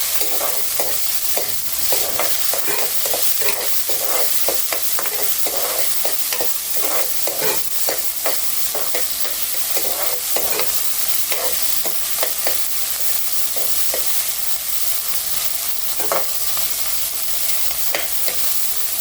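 Chopped onions and green chillies fry in a pan over popped mustard seeds and urad dal, giving a steady loud sizzle broken by frequent scraping stirs throughout, with no talking.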